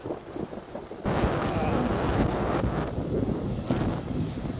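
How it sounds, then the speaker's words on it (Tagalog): Strong gusty wind buffets the microphone over a continuous rushing roar of waves at a black sand beach, with some indistinct voices early on. "Mahangin maalon."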